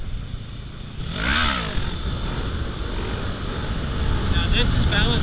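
A motorcycle engine held at a steady throttle with small, fine revving adjustments during a stand-up wheelie, droning continuously at a fairly loud level and swelling slightly toward the end.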